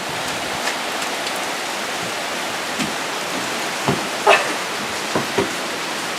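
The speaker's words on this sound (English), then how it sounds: "Where did that rain come from?" Steady hiss of heavy rain pouring down, constant and dense, with a few faint knocks and thumps scattered through it.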